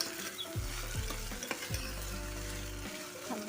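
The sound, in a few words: stirring and sautéing tomato for brinjal curry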